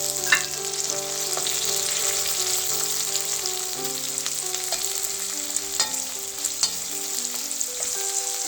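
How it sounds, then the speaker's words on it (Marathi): Curry leaves crackle and sizzle in hot oil for a tempering, a continuous close frying hiss with sharp popping spatters and a sustained tonal ring running underneath. "आपण याच्यात आता कढीपत्ता घालूया"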